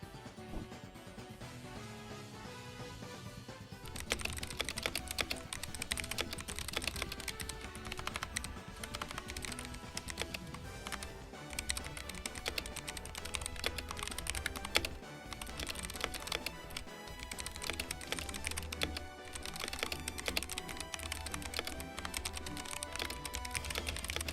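A computer keyboard with several pairing modes clicks away in a dense, continuous stream of rapid keystrokes for over twenty seconds. The typing is lighter at first, then steady and busy.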